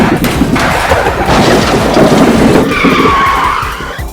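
Hot Wheels diecast van braking and skidding on a toy race track: a loud, continuous scraping skid lasting several seconds, with a high squealing tone near the end as it fades.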